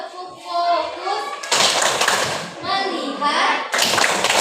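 A classroom of children performs the 'tepuk fokus' focus clap, with bursts of rhythmic group clapping at close range alternating with a woman's instructions and children's voices.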